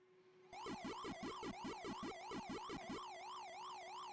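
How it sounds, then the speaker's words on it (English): Famicom Pac-Man ghost siren from the 1980s arcade port: a loud, steady electronic wail, rising and falling in quick regular sweeps, with a bouncing chirpy game tone over it for the first few seconds before the siren continues alone. "Instead of Waka Waka, it's like a weird siren."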